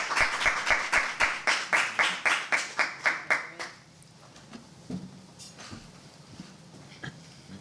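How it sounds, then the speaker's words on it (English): Applause for panelists at a community conversation event, heard as a fairly regular run of about a dozen sharp claps over roughly four seconds, then fading to faint scattered sounds. "And let's give them a round of applause."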